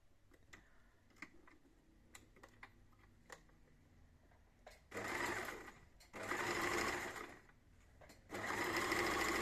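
A sewing machine stitches fabric for a small wipes basket. Soft ticks and handling noises come first, then three loud runs of fast, steady needle chatter with short gaps between them.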